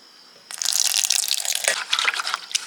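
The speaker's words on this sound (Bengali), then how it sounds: "জল দিয়ে দিয়েছি প্রথমে জলটা ফেলে দেব দিয়ে জল দিয়ে দেব ভেজার মতো করে" Water gushes in to soak katila (tragacanth gum) after a quiet start, a loud splashing pour with gurgles that fluctuates before easing slightly.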